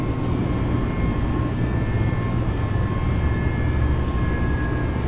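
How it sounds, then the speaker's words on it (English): Inside the cockpit of an Airbus A320neo just after takeoff, the landing gear retracts under a loud, steady engine and airflow roar with a constant drone. "Gears coming up."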